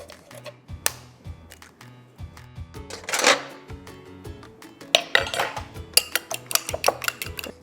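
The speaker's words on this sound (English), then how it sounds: "Now we're going to cut the onions now." Onions being cut into strips on a board, rapid clicking knife taps mixed with clinks of pans and utensils, the chopping growing busier and sharper toward the end.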